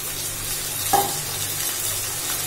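Onion, spices and ginger-garlic paste frying in a pan for a chicken dish, giving a steady, low hiss with a brief stirring scrape near the middle, and no talking.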